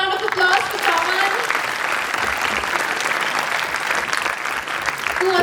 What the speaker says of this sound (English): Give me a round of applause for someone.